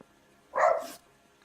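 A player's dog in L.A. Noire gives a single short bark, close and clear against a quiet background.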